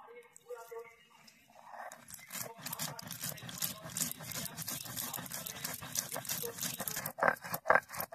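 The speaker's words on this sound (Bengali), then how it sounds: "এইভাবে আমি মিহি করে বেটে নেব।" Green chillies, poppy seeds and white mustard seeds are ground with water into a fine paste on a grinding stone, a steady rough scraping and rubbing that runs continuously after a quiet start.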